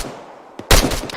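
Suppressive gunfire in a military game, a brief faint pop followed by a loud close burst of rapid automatic shots, then a final shot.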